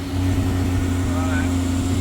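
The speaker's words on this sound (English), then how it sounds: "It hasn't got a neat idle, and I think that's because it doesn't have the O2 sensor plugged in." Mitsubishi Magna street stock engine idling roughly with its O2 sensor unplugged, a close, steady low hum with an uneven, lumpy throb across two seconds, a voice talking over it.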